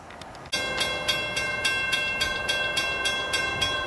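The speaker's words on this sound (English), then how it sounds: "I believe that's the juice train." A CSX freight train, the juice train, rolls past close by, its wheels clicking over rail joints in a steady repeating rhythm under a continuous loud rumble and squeal.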